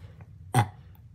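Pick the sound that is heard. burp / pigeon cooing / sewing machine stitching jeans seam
burp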